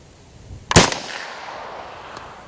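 A 5.7x28 round fired from a PS90 rifle: one sharp, loud gunshot with a brief echoing tail, then a faint distant report fading afterward, with no talking.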